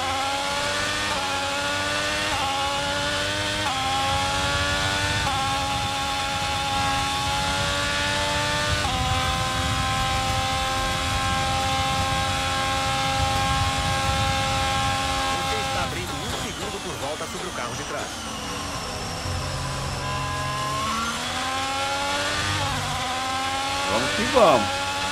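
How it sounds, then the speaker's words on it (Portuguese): Ferrari-powered Formula 1 engines in the F1 2022 game at Interlagos, a loud, high-pitched whine climbing through repeated gear shifts, briefly dropping off midway before revving up again, with talk over it. "Adoro o barulho desses carros da Ferrari, mano."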